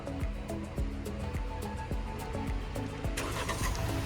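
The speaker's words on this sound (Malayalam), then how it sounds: "കേട്ടോ വാഹനം ഓൺ ആയത് കേട്ടോ" A Hyundai Creta IVT from 2024 starts by remote start, its engine catching and settling into a steady mid-pitched idle with light ticking, heard close and moderately loud throughout.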